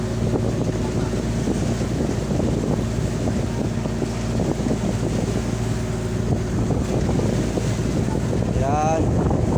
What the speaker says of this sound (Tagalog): may konting hangin